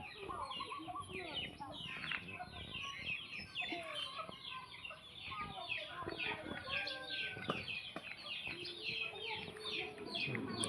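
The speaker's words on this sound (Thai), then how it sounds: "น้องไก่" Chickens and chicks cluck and peep continuously in a backyard after rain, a busy overlapping chorus of small calls heard fairly close, with a person speaking quietly at times underneath.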